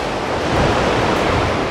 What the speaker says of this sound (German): ist nämlich einfach irgendwie richtig cool, wenn die Wellen dagegen schlagen